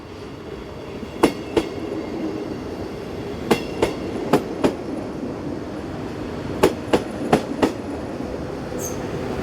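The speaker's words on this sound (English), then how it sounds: "Unit 56219 has been waiting patiently and departs with a local stopping service for Luzern" Swiss local train unit 56219 pulls away on the Gotthard north ramp, a low steady rumble with sharp rhythmic wheel clacks over rail joints in clusters, moderately close, no voices.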